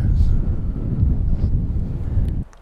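Strong wind buffeting the microphone on a golf course, a loud continuous low roar that drops away abruptly at the end.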